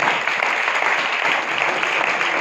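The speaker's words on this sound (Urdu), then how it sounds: "زوردار تالی بجائیں کہ خداوند یسوع مسیح کے لیے" Church congregation at an Urdu sermon claps loudly and continuously for Jesus Christ, a dense, even wall of applause filling the whole moment with no pauses.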